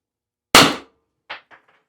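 A Byrna less-lethal launcher fires a single sharp, loud shot, followed by a few quick, fainter clacks that die away.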